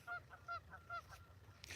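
A few geese honk in quick, evenly spaced calls at a state park, fairly distant over a low ambient rumble, followed by a brief burst of broadband noise near the end.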